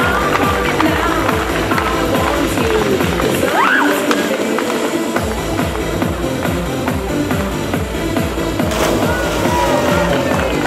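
A crowd in the Nordbad swimming hall in Halle claps in steady rhythm, loud and echoing, under someone talking.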